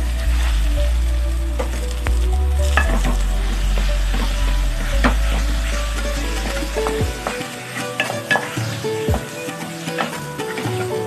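Boiled, peeled and mashed potatoes go into a pan of frying masala over a low flame, giving steady close sizzling with stirring scrapes and light clicks of a spoon against the pan.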